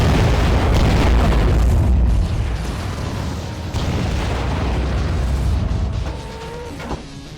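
A loud, rumbling boom from a destroyed target in the underwater video game AquaNox, with a heavy sustained low roar that slowly fades, followed by a couple of faint electronic tones.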